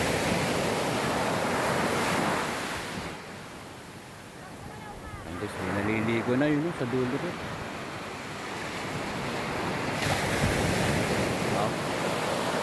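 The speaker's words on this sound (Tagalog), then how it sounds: "Ang lakas ng tunog guys ng hampas ng alon." Ocean surf rolls and crashes onto the shore at Agno, Pangasinan, in a steady loud wash with wind buffeting the microphone; someone talks over the waves partway through.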